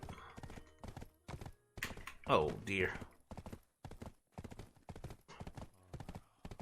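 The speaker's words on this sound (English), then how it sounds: "For some reason my horse didn't want to turn." Horse hooves clip-clop steadily in the video game Black Desert Online, a close, regular rhythm of hoofbeats running through the whole stretch while someone briefly speaks midway.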